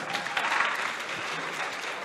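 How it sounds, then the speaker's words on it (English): A crowd at an inter-school debate competition bursts into a short round of applause, thick and steady with a slight swell near the start. "il faut applaudir une fois encore,"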